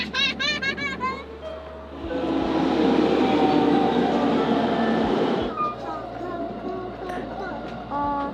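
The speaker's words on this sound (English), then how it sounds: "Yeah, it's electric train." An electric train rumbles past with a steady roar that swells and fades, while people talk nearby before and after.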